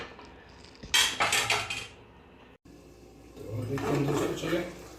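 A metal cooking pot lid is lifted off a pot of bottle gourd and chana dal curry with a loud clatter of metal on metal, followed by a quieter pause and then softer clinks and rustling, with a voice talking throughout.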